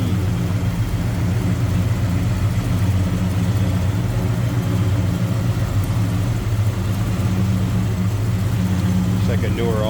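A 1967 Plymouth GTX hardtop's 440 V8 runs steadily at idle, a constant low rumble filling the whole stretch with a fairly loud, even drone. Someone talks over the engine throughout.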